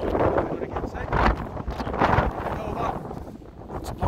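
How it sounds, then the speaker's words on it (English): Strong wind drives blowing snow during a storm, a rough, gusty roar buffeting an open microphone that swells and eases in waves throughout. "It's blowing snow again."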